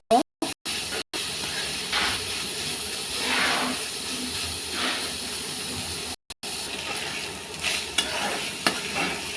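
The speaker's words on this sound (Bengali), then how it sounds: "ভালো করে ভেজে নিব" Chicken pieces frying in a pan for a Chinese-style creamy vegetable dish, giving a loud, continuous sizzle and hiss with stirring scrapes, briefly cut by a few short gaps at the start.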